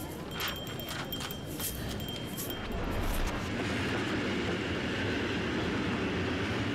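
Kim Il Sung's special train arrives at the Sverdlovsk station platform with a steady rumbling roll and faint high squeals early on, then a heavier, louder low rumble building as it draws near.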